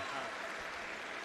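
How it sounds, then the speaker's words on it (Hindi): Brief burst of audience clapping at a municipal staff ceremony, a steady, fairly quiet spatter of many hands heard from a distance. "एक बार जोरदार तालियों से, आइए संवेद तालियों से हम आभार व्यक्त करें।"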